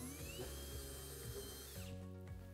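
Cordless Ryobi drill whirring in short bursts, its motor pitch rising and falling as it starts and stops, fairly close and without talk.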